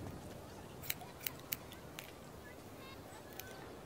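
Scissors snip hair in The Walking Dead game, several sharp, quiet clicks at irregular intervals over a faint ambient bed.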